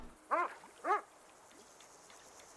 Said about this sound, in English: Why are you barking? Shut up.